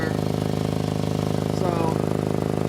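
A VW MK7 Golf R idles up close with an exhaust leak at the braided section of the pipe, giving a steady, rapid puffing pulse over the engine's even drone, and a voice briefly cuts in partway through.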